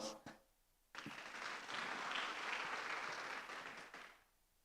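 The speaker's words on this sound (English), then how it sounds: "one more applause for all of us" Audience at a conference plenary session breaks into applause after a brief pause, a steady burst of clapping lasting about three seconds before tapering off, fairly faint overall.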